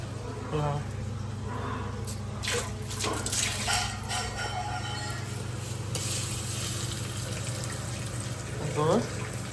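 Tap water runs steadily over fresh mint leaves being washed in a home kitchen while a biriyani is prepared, a continuous close splashing hiss with a few small clinks and handling sounds over it.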